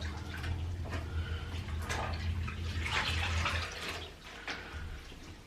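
A knitted wool tube cowl dunked and squeezed in a basin of water for soaking, with steady close sloshing and splashing that swells in the middle and eases toward the end.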